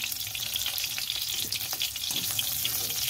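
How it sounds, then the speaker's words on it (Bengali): Raw banana pieces fry lightly in hot oil, a dense, even sizzle with fine crackling that holds steady throughout, close and fairly loud, with no one talking. "কাঁচা কলাগুলো আমি হালকা ভেজে নিয়েছি"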